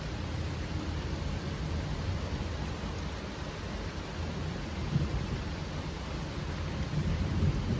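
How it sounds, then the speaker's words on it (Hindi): Heavy rain pours down outside a hostel at night in a steady, dense roar, with a deep rumble of thunder running underneath throughout. A brief swell near the middle stands out, and no one speaks. "अभी मैं आपको कुछ बारिश की आवाज़ भी सुनाने वाली हूँ।"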